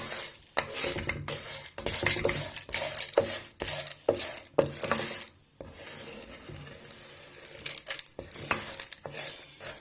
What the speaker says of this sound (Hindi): अब इसके अंदर इस तरह से मकई ऐड कर लेंगे। अच्छे से इसको इस तरह से मिक्स कर लेंगे।